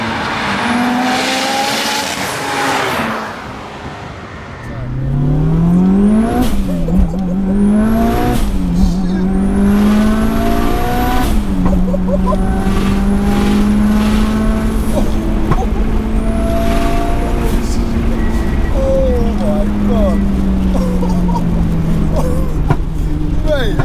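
A raw 550bhp 2.3-litre stroker Mitsubishi Evo 6 accelerating hard on a rain-soaked road, its engine rising loud and close through the gears with pops and bangs, while people talk over it.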